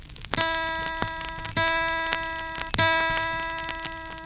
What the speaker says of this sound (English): the first string should sound like this.